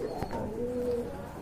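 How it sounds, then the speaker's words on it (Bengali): A Beauty Homer pigeon gives a soft, throaty coo up close, one drawn-out rolling call with a short sharp note near the start, steady against light background hiss. "এই যে দেখেন কতটা তেজি ফ্রেশ কবুতর"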